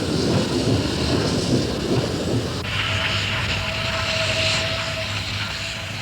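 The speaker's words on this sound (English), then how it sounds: "We'll do a pass-by of the Orbisonia station so that the train can enter the Y turnaround." An East Broad Top Railroad train rumbles past Orbisonia station in Pennsylvania, a loud steady roar of wheels and machinery that gives way to a sustained high whistle-like tone near the end.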